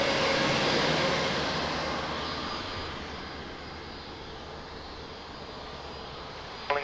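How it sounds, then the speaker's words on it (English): An airliner touches down on runway 02 at Lisbon Airport, its broad engine roar fading gradually into a distant hum, with a short sharp click at the very end. "And another amazing touchdown"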